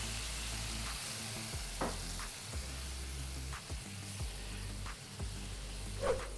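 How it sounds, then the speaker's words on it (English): Cauliflower charring in butter with Brussels sprout leaves in a pan, a steady close sizzle and crackle with occasional sharper pops and stirring scrapes, no voices. "what we have going on inside of this beautiful pan right here is going to be the charring of the cauliflower in butter"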